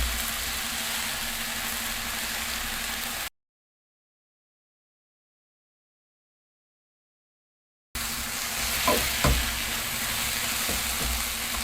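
Spinach fries in a pan with tomatoes, a loud steady sizzle with a few stirring knocks, cut off by a silent gap of several seconds before the hiss resumes.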